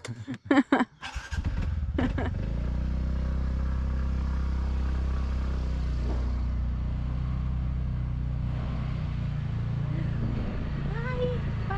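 A motorbike engine with trouble runs steadily on a jungle road in Ella, Sri Lanka, a low, constant rumble after a few sharp clattering knocks at the start, close and loud throughout.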